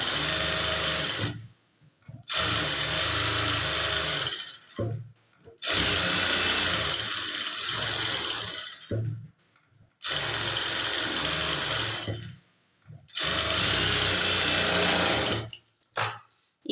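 A sewing machine runs in four long bursts of steady stitching on blouse fabric, stopping briefly between runs as the seam follows a curve, close and fairly loud.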